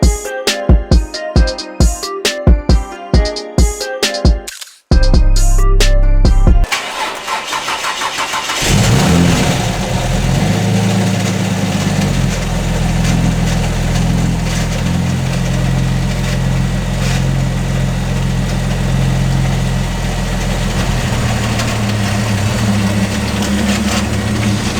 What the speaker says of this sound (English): There's a really peculiar noise coming from the engine.